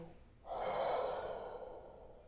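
A long, soft breath is pushed out through an open mouth to warm the hands, a slow breathy exhale that swells and then fades gently, heard alone and fairly quiet.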